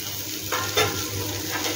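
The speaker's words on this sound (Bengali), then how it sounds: "এইবার কাজু, কিশমিশ আর নারকেল যেগুলো ভাজা ছিল ছোট করে কুচো করে, সেগুলোকে একসাথে মিলিয়ে দিলাম" Fried cashews, raisins and chopped coconut sizzle steadily in a pan for a pointed gourd dolma, with a couple of quick stirring scrapes cutting through the constant hiss.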